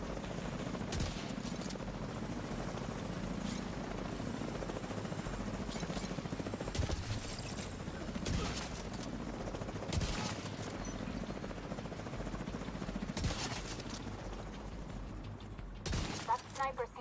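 Sniper gunfire in a video game cracks out as sharp, loud shots at irregular intervals over a constant rumbling background, with a voice speaking in between.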